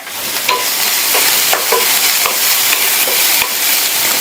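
Onions sautéing in a pan with salt, a pinch of asafoetida powder and turmeric for an okra dish, giving a loud, steady sizzle broken by occasional scraping stirs, with no voices.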